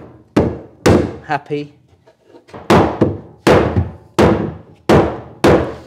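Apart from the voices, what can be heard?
hammer tapping wooden staircase newel post onto its tenon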